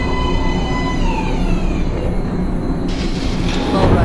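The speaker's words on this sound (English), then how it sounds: "Train coming in." A subway train in the video game Metro Last Light rolls into an underground platform, a loud, steady rumble of wheels and carriages with metallic clatter and a rising hiss near the end.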